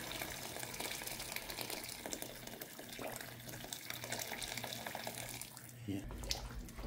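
Boiled water pours and rushes steadily into a cooking pot, a continuous splashing flow that ends with a brief clatter.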